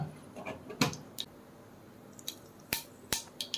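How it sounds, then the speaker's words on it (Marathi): Mustard seeds crackling in hot oil for a toor dal sambar tempering, scattered sharp pops and snaps, faint and sparse, a few close together near the end. "मस्त तडतड आवाज आला पाहिजे राईचा."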